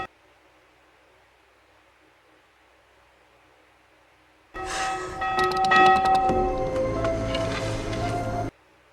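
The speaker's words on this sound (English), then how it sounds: "Can somebody stop that bell from ringing?" A bell rings out suddenly after a near-silent stretch, clanging repeatedly with long, bright ringing overtones that sustain for about four seconds before cutting off abruptly.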